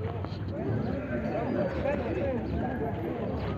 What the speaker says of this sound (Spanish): Ahí están los caballos, miren.